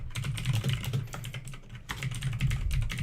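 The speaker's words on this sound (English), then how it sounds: "You know what, I'll type this in." Steady, fast clatter of fingers typing on a computer keyboard, close and continuous for a few seconds with no voices.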